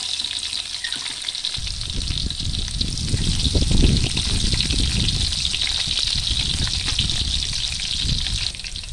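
Garlic and onion sizzle steadily in a hot pan with oil, a loud continuous crackling hiss that swells as the pieces are stirred around.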